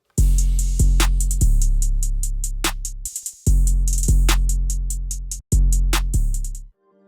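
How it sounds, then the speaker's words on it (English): Dark trap drums in a beat: booming 808-style bass kicks, sharp snares and crashes with rolling hi-hats, played in two loud, close repetitions separated by brief dropouts, with no talking. "The drums sound like this altogether."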